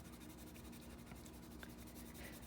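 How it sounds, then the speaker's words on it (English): A blending stump rubs over layers of colored pencil on paper, giving a soft, steady scratchy rubbing with a repeated back-and-forth rhythm, quiet and close. "rub it over your pencil, your layers of pencil"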